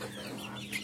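Chickens at a fancy-breed poultry farm in Joypurhat give a few short, nearby clucks in one brief burst.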